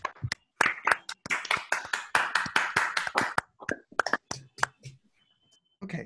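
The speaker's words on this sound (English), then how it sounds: "maybe we can do our best to give a nice round of applause for the organizers" A small audience claps for the organizers of a mathematics conference, with sharp, separate hand claps in an uneven burst that thins out and stops, then a few final claps.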